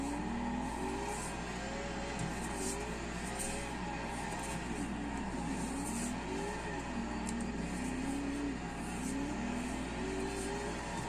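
A 1,500hp Tokyo Drift Mustang in Forza drifting, its engine droning and wavering in pitch as the throttle swings up and down, steady and continuous with faint tire noise and a low hum beneath, no talk.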